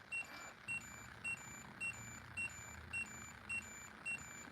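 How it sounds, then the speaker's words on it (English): A single high-pitched electronic beep repeats at a steady pace of roughly two per second, faint and regular against a soft indoor background hum. "oh, it's beeping"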